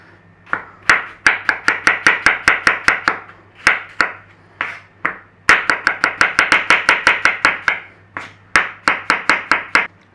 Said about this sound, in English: we want some thin slices of apple